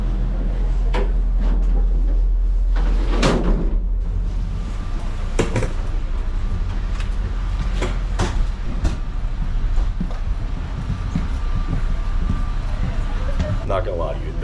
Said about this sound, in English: We're walking on a train while it's moving